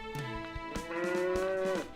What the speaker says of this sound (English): The cow called for him.